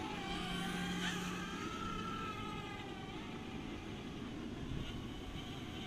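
Small Eachine E59 camera drone flying low outdoors in light wind, a steady high-pitched whirring hum of its propellers with rising and falling pitch, continuous and fairly loud, with wind noise underneath.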